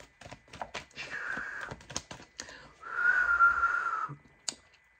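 Two short, thin whistled tones, the second longer and steadier, among scattered clicks and taps nearby.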